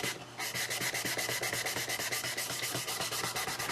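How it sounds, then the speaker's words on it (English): Rhythmic back-and-forth sanding of a wooden guitar body with fine sandpaper along the grain, quick scratchy strokes repeating evenly at close range. "we are going to sand with the grain"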